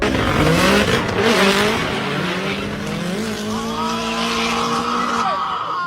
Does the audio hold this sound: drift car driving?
yes